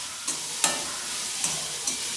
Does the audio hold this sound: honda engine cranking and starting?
no